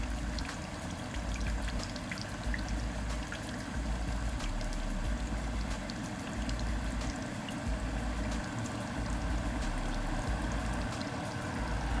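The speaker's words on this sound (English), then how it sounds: "when I pour my liquid in here" Liquid from a benzoic acid preparation poured into a Buchner funnel under vacuum filtration, a steady continuous watery rush and trickle that holds at an even level throughout with no talk.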